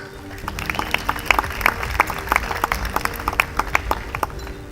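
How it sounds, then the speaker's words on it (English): Applause from the audience at a food awards show, with dense, steady clapping and scattered louder claps throughout, moderately near, with no talking over it. "give yourself a round of applause"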